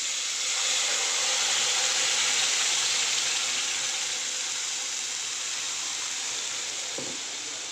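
Ground masala paste of onion, tomato, green chili, ginger, garlic and coriander sizzles in hot oil with curry leaves, for a capsicum and potato curry: a loud, steady, close hiss with no voices.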